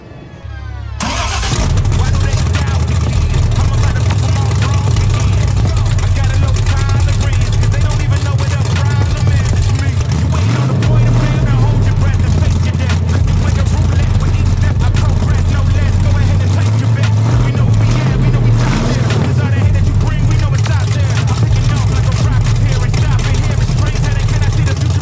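An LS-86 car with no exhaust fitted starts and idles loudly and close, a deep throbbing rumble that swells in two brief revs midway, steady throughout with no voices over it.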